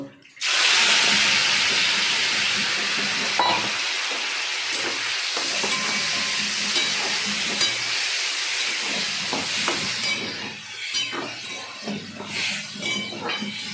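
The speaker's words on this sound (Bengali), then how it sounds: "তেলটা গরম হয়েছে, আমি আগে মাশরুমগুলো ভেজে নেব।" Mushrooms frying in hot oil give off a loud, steady sizzle that runs almost unbroken, with a few faint clinks near the end.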